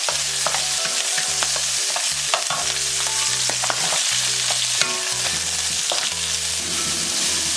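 Green onion and garlic fry in hot oil on a high stove while being stirred for a Chinese crispy chow mein dish, a steady close sizzle broken by repeated scraping stirs.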